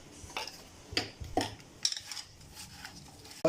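Raw banana slices being tossed with chili powder, coriander powder and turmeric in a bowl, with several sharp clinks of a spoon or utensil against the dish in a short, irregular series, fairly close.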